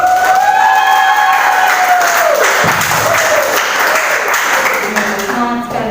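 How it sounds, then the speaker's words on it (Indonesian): Applause from the audience at a high school student council candidate debate, a lively crowd clapping steadily while a voice speaks over it and some cheering mixes in. "Tepuk tangan."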